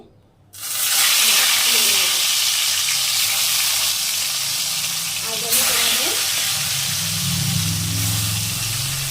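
Oil in a wok bursts into a loud, steady sizzle and hiss after a brief quiet start, frying continuously close up, with faint voices underneath.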